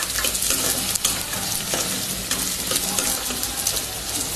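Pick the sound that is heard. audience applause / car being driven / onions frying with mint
onions frying with mint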